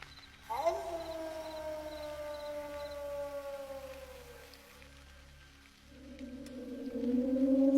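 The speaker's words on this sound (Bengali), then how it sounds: "আর দূরে কোথাও শিয়ালের ডাক ভেসে আসছে।" A jackal howls in the distance on a foggy, silent night: one long wailing cry that slowly falls in pitch, then a second howl rising near the end, over a low steady hum.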